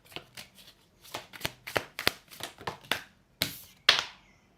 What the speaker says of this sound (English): I'm just going to get some more cards out for you